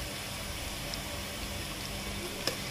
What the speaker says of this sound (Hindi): इसको थोड़ा सा 1 मिनट के लिए फ्राई करेंगे